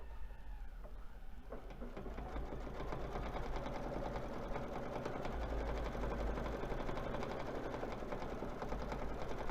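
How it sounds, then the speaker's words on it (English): A computerized sewing machine stitches a quilt design, giving a steady, close mechanical whir with a fast rhythmic needle chatter that runs without a break, with no talking. "it will show you on the projector where it's going to stitch"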